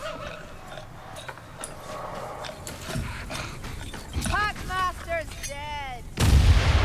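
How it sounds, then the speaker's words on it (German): A bomb explodes in the dark fantasy game Warhammer Vermintide 2, a sudden loud low-heavy boom near the end that follows a stretch of clattering combat noise and creature shrieks. "Tut mir leid, die Bombe habe ich jetzt leider verworfen."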